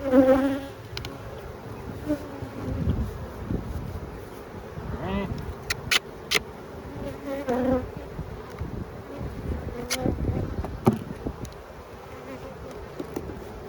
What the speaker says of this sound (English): See all the bees trying to tend to her.